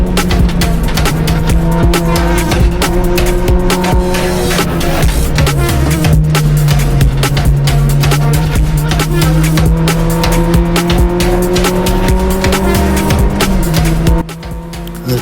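Race cars compete in a round at Donington Park, heard from close on board as a loud, continuous engine roar that rises and falls with gear changes, with other cars' engines mixed in.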